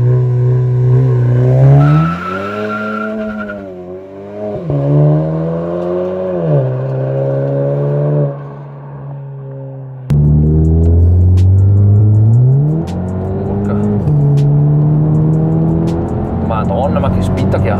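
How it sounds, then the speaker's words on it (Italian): A VW Golf GTI Performance Mk7.5 with a custom straight-through exhaust accelerates hard, its engine note rising through several gears in loud surges heard from inside the cabin, with someone talking over it. "Tutto libero, tutto dritto. Tutto dritto, infatti suona da Dio e nell'abitacolo comunque rimane comunque bello insonorizzato."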